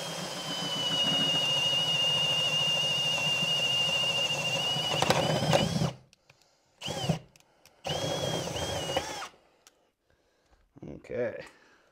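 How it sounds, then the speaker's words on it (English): A power drill whines steadily for several seconds while drilling through a wooden wall stud, then stops; a few short bursts of drilling follow with brief pauses between them. "we're gonna go ahead and drill through the stud"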